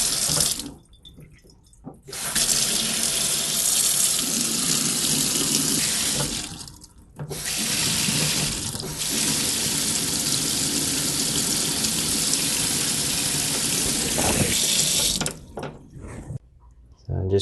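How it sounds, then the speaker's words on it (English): Water runs steadily from a Moen kitchen faucet just after a cartridge replacement, a loud continuous hiss and splash into the sink, broken by a few brief pauses where the flow stops before resuming. "let's go turn the water back on"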